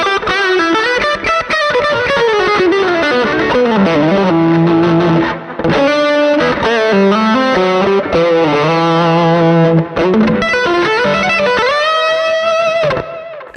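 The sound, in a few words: electric guitar fusion tone through home-built amp modeler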